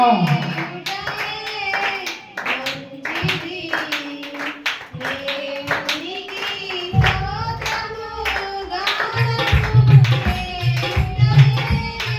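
A church congregation claps their hands together in unison, the clapping mixed in under loud worship music and singing that carries on throughout.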